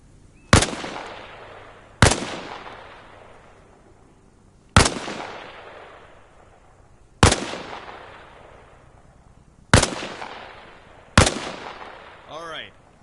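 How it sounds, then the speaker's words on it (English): Six single rifle shots ring out at a firing range in Arma Reforger, each a sharp loud crack with a long echoing tail, spaced about one to three seconds apart, with a faint metallic rattle at the end. "Position yourself behind the wall and lean out while firing."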